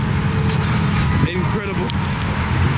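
A rat rod car rolls past at a modified car show-off event, its loud, steady engine and road rumble filling the scene while people talk excitedly over it.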